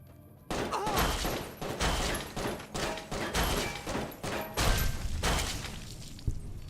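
Enemy gunfire in Fallout: New Vegas, a rapid series of loud, sharp shots in uneven bursts that keep going for several seconds, then taper off with a final isolated crack.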